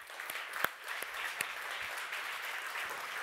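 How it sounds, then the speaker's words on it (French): An audience at a business conference applauds the CEO of Domino's Pizza France, a dense, steady wash of clapping from a sizable crowd that holds at an even level throughout, with a few louder individual claps standing out. "Et je vous demande de l'applaudir très fort."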